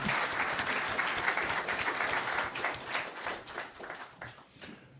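An audience at the end of a French conference on entrepreneurship breaks into sustained applause, a dense wash of clapping that thins and fades toward the end, with a faint voice underneath.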